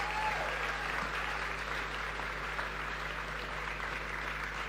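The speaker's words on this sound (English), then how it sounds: "I think you can give the Prime Minister a round of applause." Steady applause from a conference audience for Barbados Prime Minister Freundel Stuart at the DLP annual conference, continuous crowd clapping filling the hall throughout with no break.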